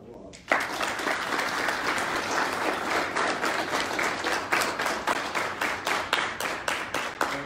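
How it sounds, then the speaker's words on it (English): Applause from an audience at an Army JROTC military awards ceremony, honoring the Jackson Area Career Center culinary arts and visual communication programs; it bursts in suddenly and holds steady and full, later taking on a faintly rhythmic pulse. "So let's give not only the culinary arts, but the visual communication Jackson Area Career Center programs a round of applause."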